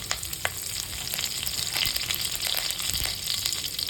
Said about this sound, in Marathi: आता मी मोहरी टाकणार आहे थोडेसे जिरे टाकायचे एक कढीपत्ता टाकायचा